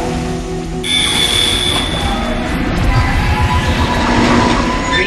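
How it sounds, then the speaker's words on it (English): A tram rumbles along rails in the video game Dead Space, with a steady metallic roll and faint squealing, loud and continuous throughout. "The tram is blocking the whole system."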